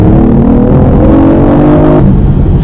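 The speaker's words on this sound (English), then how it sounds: "So from a standstill, a little bit of gas, and we're open." A BMW i8 pulls away from a standstill with a loud, steady engine drone that holds its pitch for a couple of seconds before shifting slightly, close and continuous with no talk.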